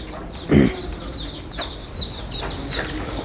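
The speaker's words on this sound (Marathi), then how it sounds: "कोंबड्या सुद्धा इथेच पाळून ठेवले" Chickens cluck and chirp faintly in the background, with one louder, brief squawk near the start, over a steady outdoor hiss.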